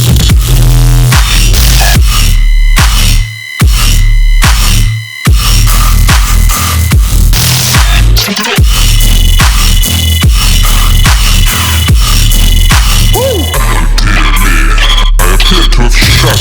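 Sustained bass synth with pitch bends, its sub layer bending in step with the main bass, playing loud and continuous with rhythmic drops and short gaps, a dense electronic riddim-style bass line with no talking.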